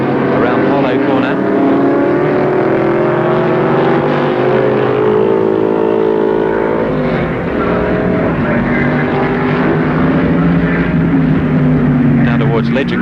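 Touring race cars, a Mustang among them, racing around the Warwick Farm circuit in 1973, a steady loud engine roar with shifting pitch under continuous commentary.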